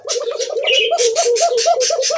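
A pigeon coos in a rapid, pulsing series of warbling notes, loud and close, with a brief higher chirp partway through.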